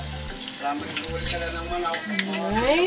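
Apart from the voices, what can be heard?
lumpia frying in oil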